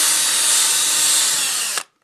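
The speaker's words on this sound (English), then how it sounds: "and then drill the hole out." A power drill drills a hole in a helmet with a loud, steady, close whine that stops abruptly with a brief clunk near the end, then silence.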